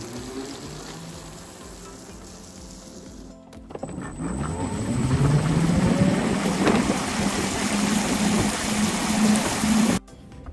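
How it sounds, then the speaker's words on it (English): A Ninebot GoKart accelerating hard in sport mode, its electric motor whine rising steadily in pitch over several seconds with road and wind noise, then cutting off abruptly. "let me guys show you the sport mode acceleration"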